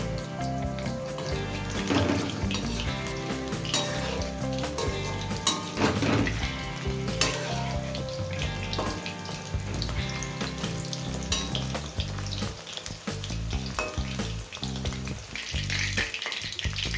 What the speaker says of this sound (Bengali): লো টু মিডিয়ামে রেখে এগুলোকে আমি ভেজে নেব।